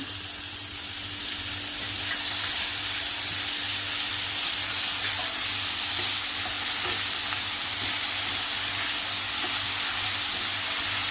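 Onions sautéing quickly in a pan with lentils, a steady broadband sizzle that swells after the first couple of seconds and holds loud and even, with a low hum underneath and no talking.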